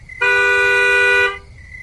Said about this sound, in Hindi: तभी एक तीखी बस की हॉर्न ने उसकी सोच को काट दिया।